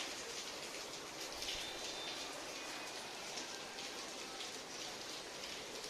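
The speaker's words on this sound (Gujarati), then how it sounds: "અહીંયા વરસાદ આવે છે" Steady rain patters continuously on a surface, a soft, even hiss with no voices, fairly quiet and constant.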